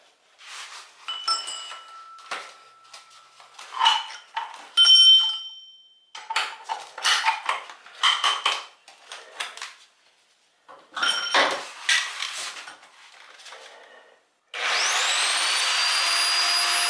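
Clicks, clanks and rattles come from changing the bit on a Bauer 1641E-B 10 amp rotary hammer, close and intermittent. A short motor whir starts near the end, with no speech.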